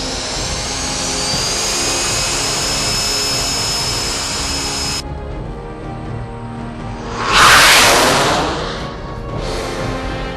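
A vintage jet trainer aircraft's engine gives a steady, high-pitched whine that roars, then cuts off abruptly. A loud rushing whoosh passes a couple of seconds later.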